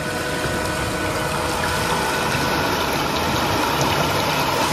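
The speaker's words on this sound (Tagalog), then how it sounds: "Ang bilis ng agos po, oh." Fast-flowing flood water races through a flooded neighbourhood as a loud, constant, broadband roar with no pauses and no voices.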